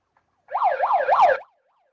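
A person imitates a police siren with their voice, giving a rising and falling wail that repeats three times across about a second, loud and up close with no other sound around it.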